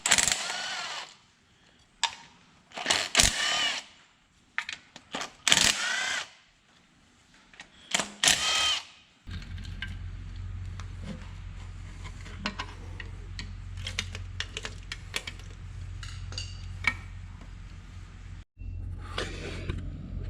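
Tools working on a Subaru BRZ engine with a failed bearing as its oil pan is removed: short bursts of power-tool whirring and metallic clinks, then a long steady mechanical drone with scattered small ticks and taps, close by.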